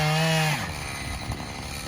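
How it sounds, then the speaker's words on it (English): A chainsaw bites into a downed willow tree branch, its engine dropping from a high steady whine into a rough, loaded cutting drone that runs on continuously, heard fairly close with no talking. "it's fun to watch Tim handle the chainsaw"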